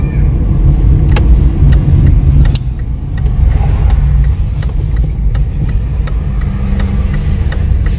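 Car engine humming close and steady while driving slowly into a Lidl supermarket parking area, with a few sharp clicks over the drone.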